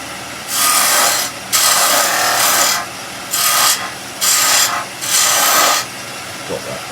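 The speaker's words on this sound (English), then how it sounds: "I'll use a spindle gouge for that one." A spindle gouge cuts into spinning wood on a lathe while shaping a small Christmas tree decoration, giving loud, close, hissing rasps in repeated passes separated by brief pauses.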